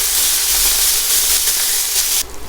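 Butter and jerk seasoning sizzle and hiss steadily in a hot pan while being stirred, a loud continuous frying wash that drops away abruptly near the end.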